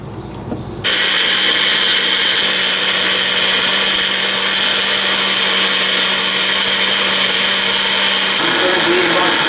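A blender whirs loud and close at full speed for about eight seconds, churning a hot smoothie with chili flakes and sriracha, then slows slightly at the end.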